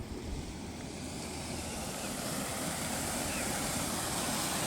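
Rainwater rushes strongly along channels near a temple pond after heavy rain, a steady, loud broadband roar of flowing water mixed with wind buffeting the microphone.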